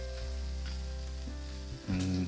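Okra fry with paneer masala sizzles steadily in a pan as it is stirred, with a few scraping bumps and a steady tonal hum underneath. No voices.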